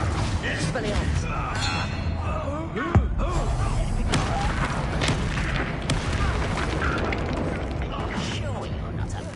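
An Expelliarmus spell goes off in the game Hogwarts Legacy as a short, sharp burst over dense combat noise and rumbling effects, with voices talking throughout.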